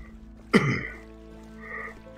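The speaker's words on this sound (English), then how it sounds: "Sorry again about the coughing." Two close, harsh coughs, one near the start and another at the very end, separated by a quiet pause.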